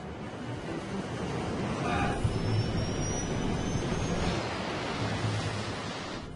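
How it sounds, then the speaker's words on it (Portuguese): A Qantas airliner (Qantas Flight 32) rolls fast down the runway, giving a steady, loud broadband roar of engine and wind noise with a faint rising whine, alone without talk. "O avião está engolindo 80 metros de pista por segundo."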